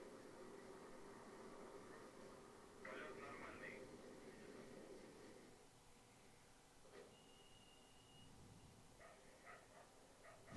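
Dog barking in the Buzz Aldrin's Space Program Manager video game, a few faint short barks and yips low in the mix beneath a voice talking over the game's soft background noise.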